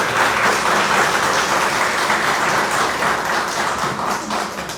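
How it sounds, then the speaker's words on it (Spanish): An audience at an academic event in a professional college applauds Doctor Cotrina, with steady, loud clapping from many people that is dense at first and tapers slightly toward the end. "Aplausos, por favor, para el doctor Cotrina."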